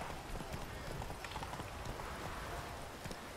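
A horse gallops in The Witcher 3, its hoofbeats a dense, fairly faint rumble under a broad wash of game noise.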